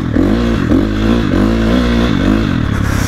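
A KTM 250 dirt bike revs steadily while sliding sideways through snow, its loud, close engine note rising and falling in repeated surges with no talk over it.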